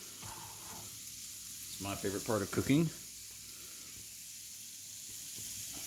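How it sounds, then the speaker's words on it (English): Bacon sizzling in a frying pan over medium to medium-high heat, a soft steady hiss running throughout with a brief louder burst of crackle midway, while a person talks over it. "The bacon sizzle."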